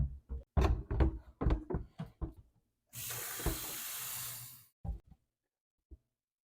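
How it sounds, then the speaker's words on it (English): Water running from a tap into a Donjoy Iceman cooler, a steady hiss of filling lasting about two seconds, preceded by a run of clunks and knocks and followed by a few more light knocks. "you can go ahead and add your water"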